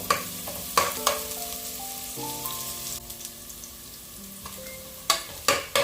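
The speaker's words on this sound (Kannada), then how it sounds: "ಈರುಳ್ಳಿ ಹಾಕಿ ಬ್ರೌನ್ ಆಗುವವರೆಗೆ ಇದನ್ನು ಫ್ರೈ ಮಾಡಬೇಕು ಒಳ್ಳೆ ಬ್ರೌನ್ ಆಗಬೇಕು" Onions fry in a pan toward browning for a Mangalorean marwai (clam) pundi dish, a steady close sizzle broken by several sharp scraping stirs, with faint tonal background music running underneath and no voices.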